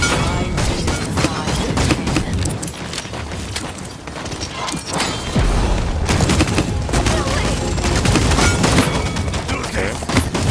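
Rapid semi-automatic gunfire in the Paladins video game, dense bursts of sharp shots with mechanical clatter and booms, loud and continuous with brief gaps, game voices mixed in.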